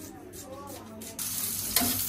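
Chopped onions frying for a dal tempering give a soft sizzle that jumps louder partway through, with a brief clatter near the end and music faintly behind.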